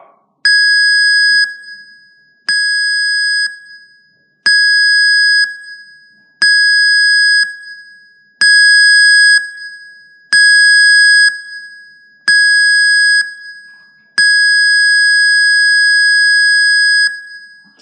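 A ship's muster drill alarm: a piercing, high-pitched tone in repeated short blasts at an even pace, ending with a longer continuous tone.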